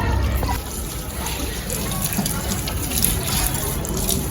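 Water sprays steadily onto an air conditioner's fan during cleaning, a continuous hissing wash that runs unbroken and close throughout, with no one talking.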